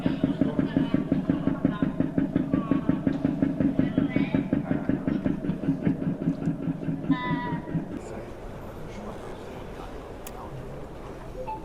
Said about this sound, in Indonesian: Ini mesin 1 silinder, ada suaranya gitu.